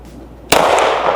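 A pistol fired in a torture test of an Olight Osight S micro red dot cracks once, loud and close, after a quiet moment, followed by a booming reverberant tail.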